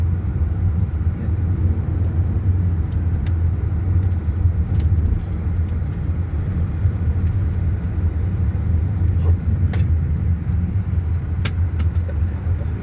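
A four-wheel-drive vehicle with a truck-like engine drives through snow, its loud steady engine drone and low rumble running continuously throughout without a break.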